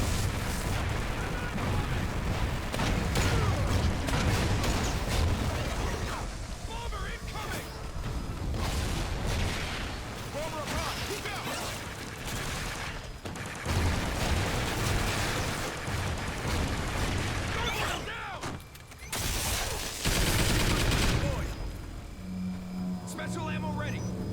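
Heavy gunfire and booming blasts from a Venom X weapon fill a Call of Duty: Ghosts Extinction co-op match, loud and nearly continuous, with a brief dip near the end.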